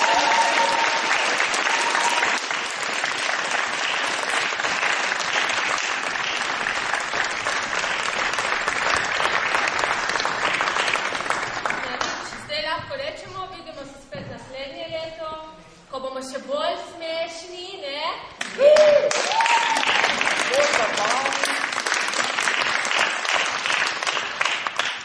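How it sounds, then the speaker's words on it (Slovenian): Audience applause for the jury at the closing of a youth theatre festival in Slovenia, broad sustained clapping that gives way midway to a voice over thinner claps, then swells loud again until the end. "en aplavz za žirije"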